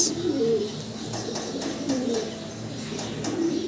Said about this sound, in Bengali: এখানে এক জোড়া আমরা মাল্টেস কবুতর দেখতেছি